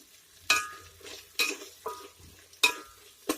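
Prawn pulao ingredients frying in a pan, with four or five sharp stirring scrapes and clinks of a utensil against the pot over a soft, steady sizzle.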